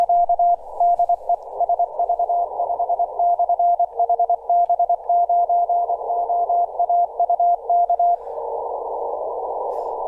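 A CW Morse code sidetone on a ham radio receiver with a 600 Hz filter, a steady pure tone keyed in rapid dots and dashes, clear and alone, ending with a switch to soft hiss.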